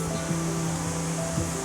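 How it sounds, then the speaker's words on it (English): Antaki Falls near Sendai, Japan, gives a steady, even roar of falling water that continues without a break, with a faint low hum underneath. "Now we're going to head down and check out this waterfall."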